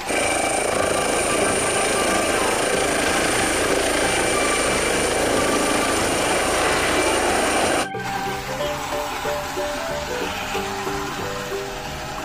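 A helicopter gives off a loud, steady rotor and engine roar that holds for about eight seconds, then cuts to a quieter, more tonal mechanical hum.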